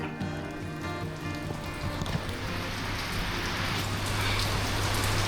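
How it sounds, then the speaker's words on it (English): Heavy rain falling steadily on surfaces in Thailand, a dense, even patter that builds slightly louder toward the end, with no voices. "The rain's arrived."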